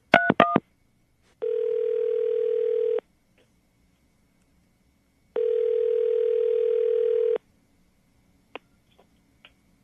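A telephone line gives a few quick dialing tones, then two long steady ringback tones separated by a pause, followed by faint clicks in near silence.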